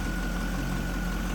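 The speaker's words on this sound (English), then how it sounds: "Hear how smooth that engine runs." The LS1 V8 engine of a 1999 Chevrolet Corvette C5 coupe idling smoothly, a steady low rumble with a constant hum, heard close and alone.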